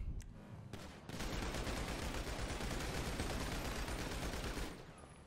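Sustained rapid gunfire in GTA 5 sprays at a car, a dense, loud, unbroken rattle of shots lasting several seconds after a brief lead-in.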